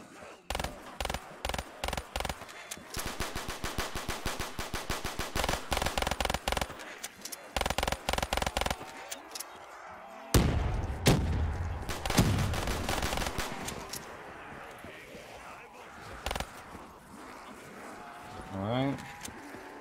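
Pistol shots from Black Ops 3 custom zombies crack in quick rhythmic volleys for several seconds, then give way to louder explosions and mixed game noise, with a player talking at times.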